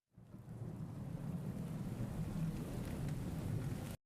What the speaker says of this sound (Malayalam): നല്ല സൂപ്പർ മഴ പെയ്യാണ്